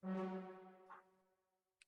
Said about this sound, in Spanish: El staccato suena así.